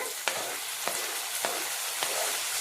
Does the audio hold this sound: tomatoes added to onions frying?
yes